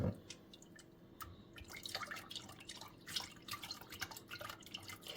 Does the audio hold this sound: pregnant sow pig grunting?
no